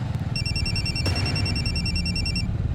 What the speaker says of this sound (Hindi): कोमल तुम्हारा फोन बज रहा है।